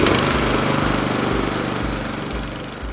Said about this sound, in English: the first step in using the power rake or dethatcher is how to start the machine